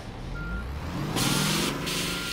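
A truck reverses with a steady warning beep over engine rumble, then a loud hiss of air brakes bursts in the middle and repeats briefly; no talk.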